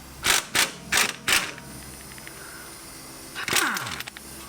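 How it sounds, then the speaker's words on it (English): A wrench works a nut on a Tesla Model 3 suspension link during a lowering-spring install, giving four quick metallic ratchet clicks, then a short grinding turn after a pause. The sounds are close and fairly quiet. "lock that in position with a Torx socket while you go at it with a wrench on the nut end"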